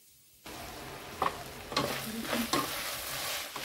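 Ivy gourd (tondli) being stirred and sautéed in a pan: soft sizzling after a quiet start, with a few distinct spatula scrapes and clatters, fairly quiet and close, no voices.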